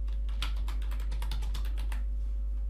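Rapid typing on a computer keyboard, a dense burst of close key clicks for about two seconds before it trails off, over a constant low hum, no one speaking.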